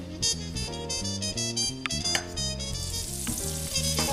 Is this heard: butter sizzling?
yes